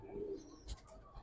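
Pigeons, Giribaz tumblers kept in a home loft, give a few soft, close coos with some faint chirps in a short burst and no talking.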